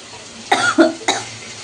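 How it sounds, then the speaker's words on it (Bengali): A few sharp coughs close by from a person with a cold, three harsh bursts in quick succession over a quiet background. "কাশি আসছে আগে আমার প্রচন্ড"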